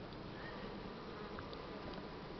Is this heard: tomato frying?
no